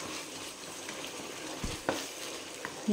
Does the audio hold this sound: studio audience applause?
no